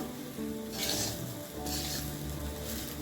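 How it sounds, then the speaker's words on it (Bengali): Rice, dal and spices being stirred and fried together in a pot for bhuna khichuri, a soft sizzle under a low background hum, with two brighter scraping bursts as the spoon moves through the mixture. "দিয়ে আমি এখন ভালো করে নাড়াচাড়া করে ভেজে নেব"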